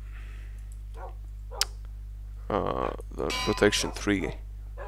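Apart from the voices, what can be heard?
dogs barking in Minecraft (video game)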